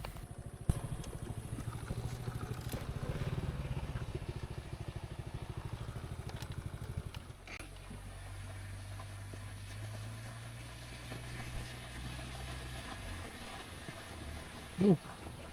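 A 1989 Honda Astrea Prima motorcycle engine labours up a long, steep hill, a steady close drone that drops to a lower, softer idle-like hum midway, with a brief clatter near the end.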